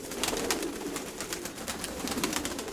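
Pigeons cooing in a loft, a dense continuous chorus of soft repeated coos and wing flutters, fairly faint and with no voices.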